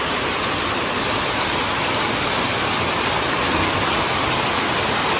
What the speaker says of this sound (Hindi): अभी थोड़ी देर पहले यहाँ धूप थी और देखो अभी बारिश आ चुकी है।